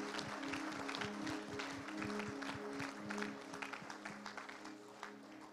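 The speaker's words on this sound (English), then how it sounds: "Please clap for Jesus." Applause from a church congregation, a dense, steady patter of many hands clapping throughout, with a low sustained hum underneath.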